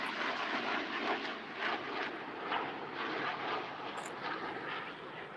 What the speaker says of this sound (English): Wow, that was 2 military planes.